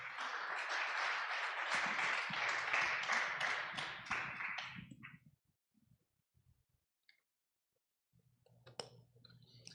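A church congregation gives a loud burst of applause at a Spanish-language service, several seconds of dense clapping that fades out, followed by near silence and a few faint taps.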